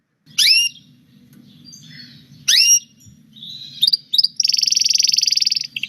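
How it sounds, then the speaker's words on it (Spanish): A canary sings close and clear in a recording played during a lecture: two sharp sweeping chirps, a few quick notes, then a fast buzzing trill, over a soft low hum. "Un canario."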